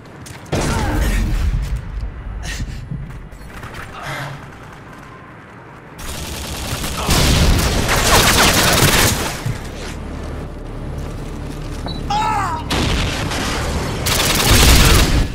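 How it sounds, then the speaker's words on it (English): Rapid gunfire from a shooting video game, bursts of automatic fire and booming shots filling most of the stretch, loud and continuous with brief lulls. "I started shooting like years before him"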